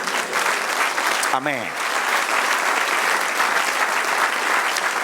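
A church congregation applauding during a sermon, with sustained, dense clapping from many people throughout and a single voice calling out briefly near the start.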